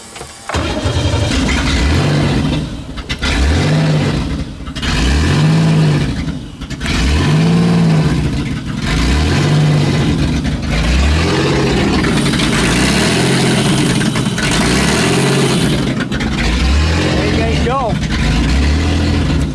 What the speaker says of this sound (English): I might have to play with the throttle here. Let's see if I can get this to start.